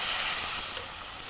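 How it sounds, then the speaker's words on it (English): Minced meat for a cumberland pie browning in a pan, giving a steady, loud broadband sizzle that carries on without a break. "all I'm simply doing is just going to brown the meat on all sides"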